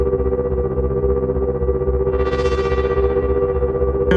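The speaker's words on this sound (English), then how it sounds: "Let's add some chorus." A continuous drone from a 1010music Lemondrop synth runs through a chorus effect, a loud steady layered tone with a brief rising shimmer midway and a bright burst at the end, no voices present.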